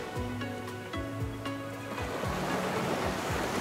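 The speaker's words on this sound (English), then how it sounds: "The foam is just so beautiful. The waves are beautiful." Ocean waves break steadily on a Barbados resort beach, a continuous loud wash of surf and foam with repeated swells rolling in and a rising hiss of water toward the end.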